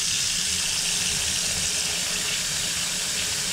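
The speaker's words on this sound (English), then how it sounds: "So here we go, filling it up." Tap water gushes steadily into a bucket of beet pulp horse feed, a loud continuous rushing pour that holds unbroken throughout with no voices.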